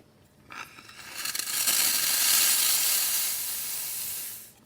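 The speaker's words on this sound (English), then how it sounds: "Check the steam, see the pressure is good." Steam hisses steadily from the wand of a La Pavoni espresso machine after a full tune-up, a close, loud continuous rush that swells within the first second and holds before cutting off.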